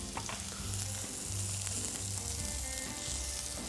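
Stuffed squash blossoms fry in a hot pan with a dense, steady sizzle and crackle, close and continuous, with faint low tones beneath and no talking.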